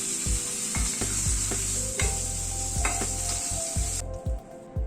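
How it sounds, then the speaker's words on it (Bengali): Prawns fry in a pan and get stirred, a sizzle broken by repeated scraping and clattering strokes of a utensil against the pan, close by, ending with a few brief knocks as the frying noise drops away. "চিংড়ি মাছগুলো এই মিনিট 2 মতো একটু নাড়াচাড়া করে নিলাম"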